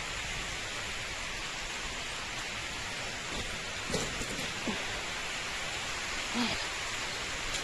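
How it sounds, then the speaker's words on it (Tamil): Steady rain falls over a garden, a dense even hiss with a few brief louder patters and drips near the middle, no voices over it. "சத்தம் கேட்குதுங்களா உங்களுக்கு, மழை சத்தம்?"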